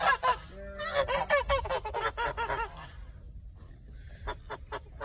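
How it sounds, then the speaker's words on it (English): Geese in a garden give a burst of loud, rapid, close honks, then a quieter pause and a few separate honks near the end. "Say hi to our geese over here."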